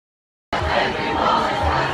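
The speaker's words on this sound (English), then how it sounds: "So they're cheering again" Protest crowd at O'Hare airport cheering and whooping, a steady muffled roar that starts abruptly and carries on at moderate loudness, heard from close to a door.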